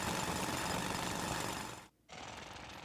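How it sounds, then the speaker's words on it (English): Steady, loud grinding rumble of a drill boring through rock in the Splatoon Raiders video game, continuous and dense, cutting out briefly near the end before resuming. "Where there's a drill, there's a way."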